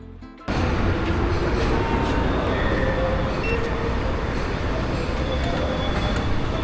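A Medellín metro train rumbles loudly and steadily, with constant rolling noise and faint squeals of wheels throughout.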